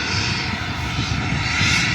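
A small airplane's propeller engine drones loud and steady at an air show event, a continuous close rumble with a rough buzzing edge and no voices.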